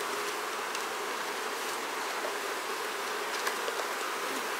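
Honeybees swarming around an opened hive in an apiary, a loud continuous buzz close by, dense and unbroken, with no talking.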